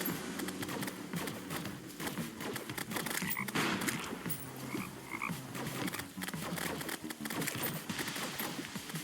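A steady stream of overlapping croaks from a crowd of toads in the Terraria Calamity game, moderately loud and continuous, broken up by sharp, scattered clicks and thumps.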